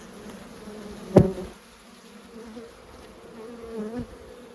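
Faint buzzing of honeybees near a hive during an early-spring February apiary inspection, with a brief sharp knock early on and a soft low hum throughout.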